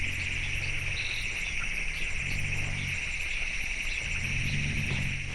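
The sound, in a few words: elephant rumbling calls played back 3 times faster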